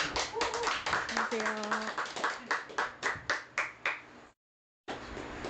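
A small lecture audience claps to welcome a professor speaking on the pansori work Jeokbyeokga. The claps start brisk, then thin into a few slow, isolated claps before a brief silence, and a voice then greets the room.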